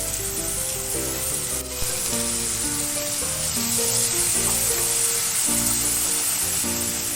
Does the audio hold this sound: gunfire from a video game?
no